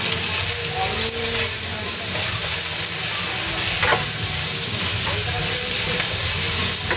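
Chicken liver sizzles and fries steadily in a pan while cooking pancit bato, a constant hissing crackle with occasional stirring scrapes, close and continuous.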